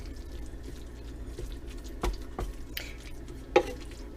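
Spoon stirring a thick cooking mixture for Nashville-style hot jackfruit, quiet scraping and soft wet sloshes with a few sharper clinks against the pot, close and alone.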